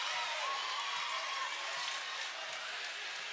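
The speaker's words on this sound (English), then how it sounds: "Tremaine Lee brings the Port Huron High crowd to his feet" A steady roar from the home crowd at a Port Huron High School basketball game, broad and sustained cheering that fills the gym for several seconds after a slam dunk.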